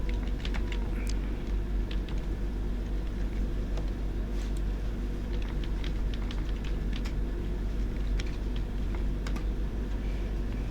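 Someone types a password on a computer keyboard, sparse light key clicks scattered over a steady low hum.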